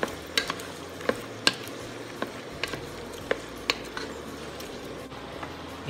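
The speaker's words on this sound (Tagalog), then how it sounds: "haluin lang natin ito ulit." Beef stew with carrots, celery and green peas stirred in a pot, soft wet churning under a low simmer, with a series of sharp spoon clicks against the pot's side spaced irregularly; no talking.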